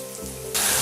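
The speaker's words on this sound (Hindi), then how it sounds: "अब इसमें हम सूखे मसाले वाला पेस्ट डाल देंगे। तो इसे भी हम भून लेंगे।" Dry-spice masala paste drops into a hot pan and bursts into a loud, bright sizzle that swells suddenly over a low background hum and holds steady for the last instant.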